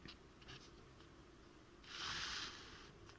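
Pen scratching across paper while working through a maths problem, a brief burst of faint, close writing strokes over a quiet room hum, with no talking.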